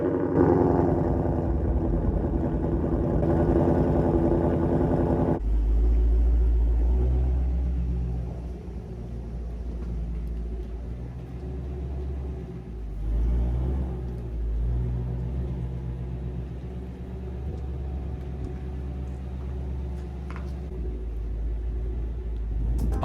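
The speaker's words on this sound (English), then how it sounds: "First, I'm gonna put the GT350 in the garage." Ford Mustang GT350 pulling into a home garage, a deep engine rumble that drops as the throttle eases, then a low idling burble with small surges, close up and without talk.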